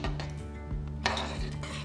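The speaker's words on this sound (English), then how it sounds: "And then stir that together." A utensil stirs a coconut milk mixture in a crock pot, giving a steady run of close scraping and clinking against the pot, with a brighter knock about halfway through.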